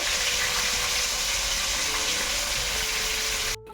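Fish fries in a pan with a continuous close sizzling hiss that runs for a few seconds before cutting off abruptly.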